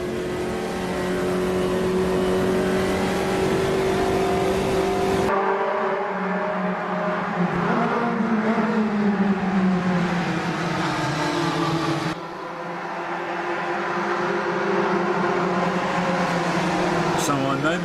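Puma GTE race car engine at Bathurst in a racing video game, a loud continuous engine drone with pitch shifts as it revs and changes gear, steady throughout and overlaid by speech.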